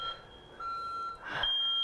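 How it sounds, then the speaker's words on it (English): A fire alarm sounds steady, high electronic tones continuously and fairly loud, with a brief dip and a slight pitch shift partway through. "I just set off my fire alarm"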